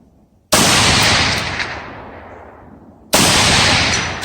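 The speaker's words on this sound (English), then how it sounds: "See if we can hit the steel out there a little bit." Two loud, sharp rifle shots crack at about two-second spacing outdoors, each followed by a long rolling echo, while fired at steel targets downrange using an IMG polymer PSL magazine.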